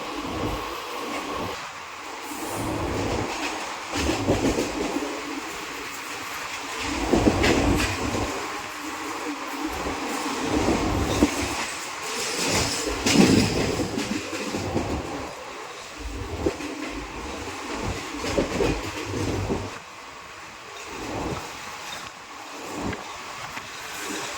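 Inside a moving, nearly empty Mumbai suburban train, a continuous rumbling roar of wheels on rails rises and falls with rhythmic clattering and rattling of the carriage throughout.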